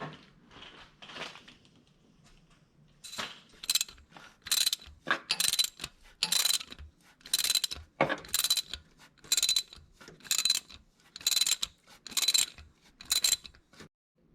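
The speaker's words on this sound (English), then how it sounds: "I'm gonna go ahead and get my insert tool and go from there" A TimeSert insert tool threads an insert into a bolt hole on a 1991 Honda Civic timing belt tensioner, giving rhythmic ratcheting clicks in repeated bursts with brief pauses, close and clear.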